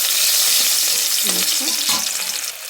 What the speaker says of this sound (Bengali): এই তেলের মধ্যে দিয়ে দেবো কিছুটা পেঁয়াজ। পেঁয়াজটা একটু নাড়াচাড়া করে নেবো।